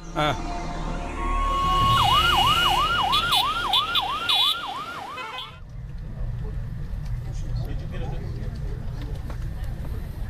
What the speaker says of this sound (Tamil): வின்சென்ட், ஆரியபுரம் தோப்புக்கு ஒரு ஆம்புலன்ஸ் உடனே அனுப்புங்க